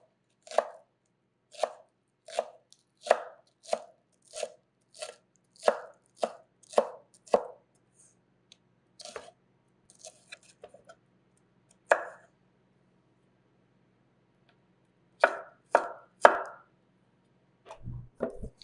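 A knife thinly slicing vegetable strips on a cutting board for a Southern chili, a quick, regular run of crisp chops, then scattered cuts with pauses and a final cluster, close and clear.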